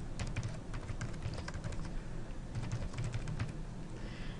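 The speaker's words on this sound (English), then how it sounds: "then I hit the tab key on the keyboard" Keys on a computer keyboard are tapped in quick, irregular bursts of close, crisp clicks, continuing throughout with no talking.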